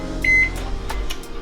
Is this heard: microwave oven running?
yes